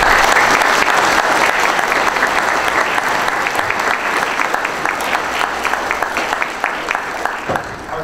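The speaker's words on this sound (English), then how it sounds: "just give them a round of applause" An audience at a sheriff's debate claps loudly and steadily for several seconds, a dense wash of many hands that tapers slightly at the end, with a voice faintly under it.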